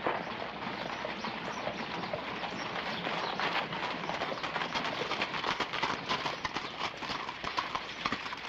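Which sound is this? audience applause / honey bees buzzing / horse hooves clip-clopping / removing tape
horse hooves clip-clopping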